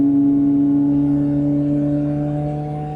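A Chevrolet Corvette C8 Z06 engine held at raised revs in sport mode, a smooth sustained tonal drone heard close up that eases slightly toward the end.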